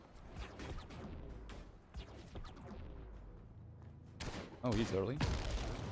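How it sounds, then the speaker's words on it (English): Explosions crack and rumble in the Gemini: Heroes Reborn video game, with a cluster of loud bursts near the end over continuous game sound, while someone talks over the top. "Then here we have some more explosions."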